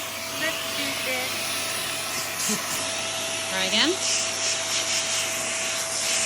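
A Vax Airmax Stretch vacuum cleaner runs steadily throughout, a constant close whir with a faint tonal whine, while someone talks briefly over it.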